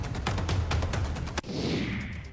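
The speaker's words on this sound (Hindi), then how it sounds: "बीजेपी कार्यकर्ताओं ने पटाखे फोड़े," Firecrackers burst in a rapid, crackling volley at a BJP victory celebration in Barmer, Rajasthan, loud and close, ending in one sharp bang followed by a hissing fizz.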